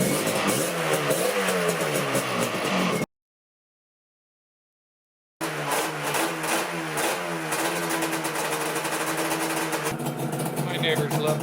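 A motorcycle parked on a low-profile dolly with its center stand is started and revved: loud, close engine roar with rising and falling revs, a brief silent gap, then steady running again.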